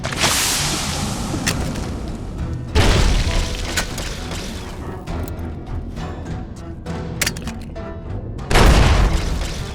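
A grenade blast in Fallout: New Vegas lands as a deep, loud boom, followed by crackling debris and scattered clanks, with a second heavy explosion near the end. No voices are heard.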